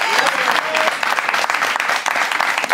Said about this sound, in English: Make some noise for Nadeska